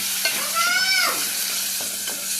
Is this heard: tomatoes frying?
yes